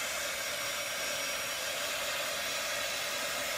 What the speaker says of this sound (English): I'm going to use my handy dandy little heat tool.